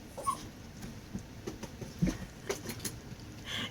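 A pet dog whimpers softly indoors, a few faint, scattered whines and small yips spread over a few seconds of otherwise quiet room noise.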